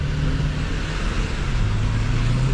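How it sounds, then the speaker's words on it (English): Busy street traffic roars steadily and close, with engines of cars and trucks droning and passing without pause. "A lot of traffic."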